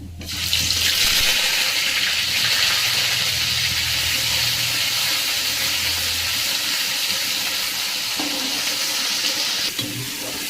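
Garlic, ginger and onion paste sizzles in a hot pan with bay leaf, cinnamon, cumin and mustard seeds, a loud, steady broadband hiss that runs almost continuously and eases slightly near the end.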